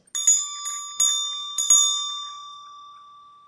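A small hand bell rung during a hypnosis session sounds four clear, bright strikes in quick succession, each leaving a long shimmering ring that fades slowly into silence.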